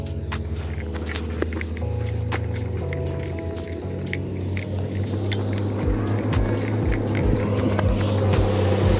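A Volkswagen 24.250 bitruck truck comes along a muddy dirt road, its low diesel rumble swelling as it nears, with scattered clicks and splashes over the engine drone and no talk.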